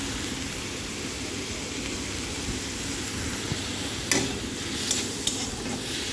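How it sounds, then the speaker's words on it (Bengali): Steady sizzle of frying in a pan while turmeric and salt are stirred into the ingredients for a Bengali dish, a constant hiss with a few sharp scraping clinks near the end. "হলুদ লবণ দিয়ে ভালো করে কষিয়ে লাল করে ভাজতে হবে।"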